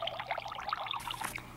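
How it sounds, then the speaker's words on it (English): Whipping cream pours steadily into a jar up close, a soft glugging trickle lasting a moment. "Just take some whipping cream, and you pour it in a jar like this."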